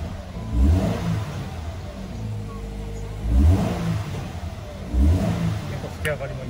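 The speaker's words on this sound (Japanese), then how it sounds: "結構吹き上がりもいい感じです" A Subaru BRZ 2.0 GT sports car engine revs up three times in quick bursts, each rising whoosh falling back to idle, heard close by.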